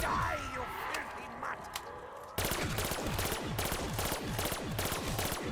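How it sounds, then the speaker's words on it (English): Rapid automatic gunfire from a weapon shooting zombies in Black Ops 3 Zombies, preceded by a few scattered shots, then a sustained fast burst of loud repeated reports. "I just need to get a nice clear path to be able to shoot all these zombies"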